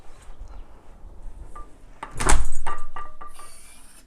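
A Pineworld Q106 Bluetooth fingerprint smart lock auto-locking as the door shuts: a loud thud with a sharp click, then a fading mechanical whir, after quieter handling sounds.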